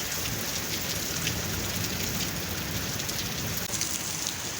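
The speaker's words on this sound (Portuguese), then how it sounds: "Olha essa chuva." Heavy rain pours steadily and loudly over a campsite with a campfire, a dense continuous hiss of drops on surfaces with no voices.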